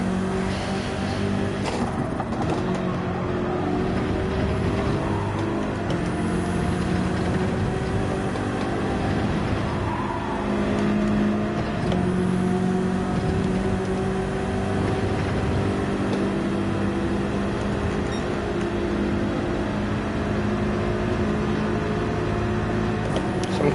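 A Ferrari race car with Verstappen Racing livery in Gran Turismo 7 drones with a steady, loud, high engine note, holding near-constant revs with slight pitch shifts, alone without talk.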